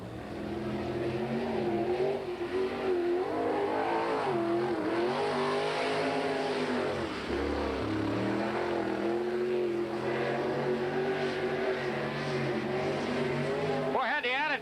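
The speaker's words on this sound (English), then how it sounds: "You could see the car just sit there and spin the rears that time as he went through 3 and 4." A Chevrolet-powered sprint car roars continuously around a dirt track in a 1987 World of Outlaws race, its engine revving and wavering as the rear wheels spin, with an announcer talking over it.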